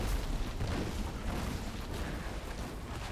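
Explosions in the video game Diablo 3, a dense, continuous barrage of booming blasts and bursts layered over one another, loud and unbroken from start to finish.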